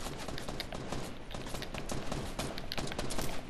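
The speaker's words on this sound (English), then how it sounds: "He's using an assault rifle." Fortnite assault rifle gunfire sounds in dense, continuous bursts that stay loud throughout, with overlapping shots and game effects and no clear pauses.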